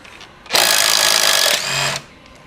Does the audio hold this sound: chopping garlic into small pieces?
no